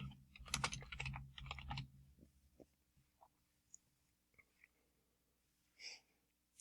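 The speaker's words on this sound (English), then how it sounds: "We're going to type our name." Fast bursts of typing on a computer keyboard, a dense cluster of close clicks at first, then sparse single taps and a faint breath toward the end, no talking.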